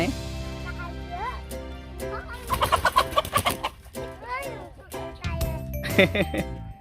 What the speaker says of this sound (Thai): เดินดูไก่ก่อนที่ครับมีไก่เยอะไหม